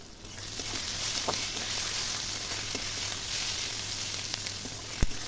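Spice paste and chopped green chillies fry with onions in a pan for a spicy prawn dish, giving a steady, close sizzle throughout with a few faint clicks and one sharp tap near the end.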